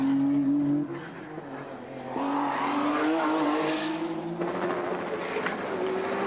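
A Nissan Skyline touring car races at Bathurst during the 1991 Tooheys 1000, its engine a loud sustained drone with pitch shifting as it accelerates and changes gear, joined briefly by tyre noise.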